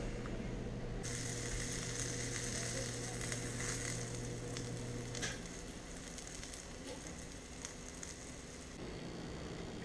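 Reconstituted Voluminous Latex Milky mushrooms frying in a pan, a loud continuous sizzle with scattered pops and crackles, easing slightly partway through before carrying on steadily.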